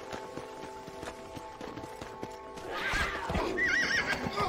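A horse in Red Dead Redemption, played on Xbox 360, gallops with rhythmic clip-clop hoofbeats, then gives a loud neigh and whinny in the final seconds over a steady game hum.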